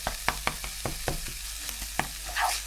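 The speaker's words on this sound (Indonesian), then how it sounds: "jadi aku bikin nasi goreng pakai telur" Eggs and tuna frying in a pan for nasi goreng, a continuous close sizzle broken by a series of sharp spatula scrapes and taps against the pan.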